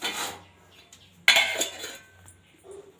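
A lid set over a pot of cooked papaya and potato curry, a sharp metallic clank followed by a brief ringing rattle, close and clear in a quiet kitchen.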